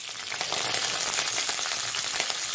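Curry leaves with chana dal and urad dal sizzling in hot oil for a tempering, a loud, continuous close-up crackle and hiss with no voices.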